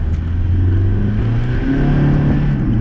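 A diesel-swapped mk2 Volkswagen Jetta TDI pulls hard in second gear under turbo boost, its engine droning loud and steady from inside the cabin with rising low-pitched tones and no talk.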